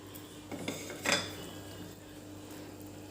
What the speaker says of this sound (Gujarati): આવી રીતે એને વેલણથી થોડુંક હલાવી લેવાનું